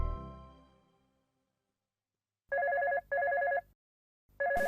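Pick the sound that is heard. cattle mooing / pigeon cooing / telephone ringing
telephone ringing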